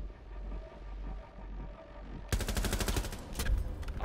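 Rainbow Six Siege gunfire starts abruptly after a quiet stretch: a rapid, evenly spaced automatic burst rattles close and loud until the end.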